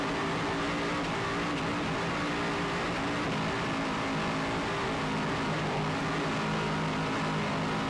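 Racing boat powered by Bruce Falls Turbocraft 1,000 horsepower engines roars steadily at speed through the whole stretch, a dense, continuous engine drone with no voices over it.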